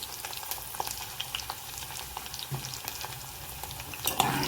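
Green chilli pieces sautéing in a pan of hot oil for Gujarati vaghareli rice, a steady soft frying sizzle with faint stirring ticks, close and moderately quiet with no voices.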